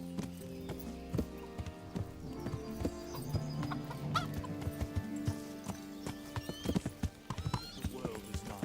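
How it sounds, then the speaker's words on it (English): Horse hooves clip-clopping at a riding pace in the medieval video game Kingdom Come: Deliverance, with a horse's whinny, clucking fowl and ambient farm sounds around the rhythmic steps. "Learn to ride a horse"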